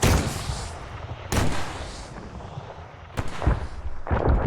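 Rifle shots fired at a 300-meter target on a range: several loud, sharp cracks spaced a second or two apart, each trailing off in a long rolling echo, with no talking.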